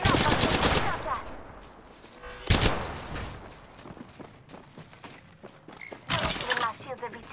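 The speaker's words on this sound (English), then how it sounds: "Listen up, I'm getting shot at." Apex Legends gunfire crackles in loud rapid bursts and single shots, some near and some farther off, with quieter game noises between volleys.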